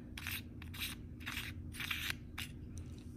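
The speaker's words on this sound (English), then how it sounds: "then you can just unscrew it like that" A PolypLab macro lens is unscrewed from an orange filter in a run of quiet, rhythmic scratchy thread clicks, about five short bursts close up over a low background hum.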